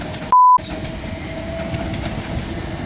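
A train passes through Clapham Junction, a steady rolling rumble with a bright tonal whine throughout and a brief loud beep near the start.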